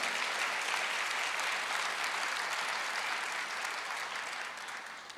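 A church congregation applauds at a worship service, a loud continuous roar of many hands clapping that stays even and full before easing off near the end.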